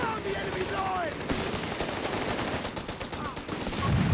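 Bren machine gun bursts rattle in a Company of Heroes 3 battle, with other distant gunfire around them, and a commentator talks over the shooting.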